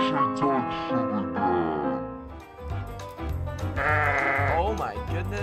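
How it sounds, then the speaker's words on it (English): Sheep bleat repeatedly inside a Roblox farm game, a wavering cartoonish cry standing out over lively game music and excited talk. "The sheep!"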